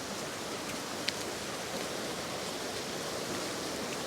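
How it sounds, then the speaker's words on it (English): Waterfalls swollen by heavy rainfall at Pucks Glen in Scotland make a continuous, even rushing hiss of falling water, steady and unbroken, with no voices. "With all the rainfall, the waterfalls are beautiful."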